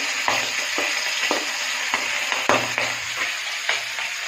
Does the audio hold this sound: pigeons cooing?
no